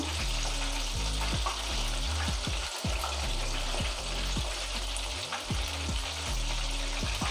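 KFC-style chicken pieces frying in oil over a low flame, a steady close sizzle with bubbling and occasional utensil knocks, continuous throughout with no voices.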